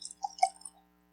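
Woodford Reserve bourbon, a Kentucky whiskey from Versailles in Woodford County, poured into a glass, giving a few quiet, close splashes and drips over about a second before falling silent.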